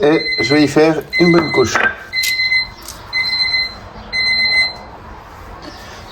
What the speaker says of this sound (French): Désolé pour le bruit de la sonnerie.